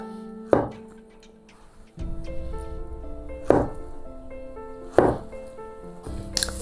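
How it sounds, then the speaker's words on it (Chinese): A knife chops a banana into small pieces on a board, with a few sharp, well-spaced thunks ringing out over quiet background music, and no voices heard. "咱们把香蕉啊，来给它切成小段儿"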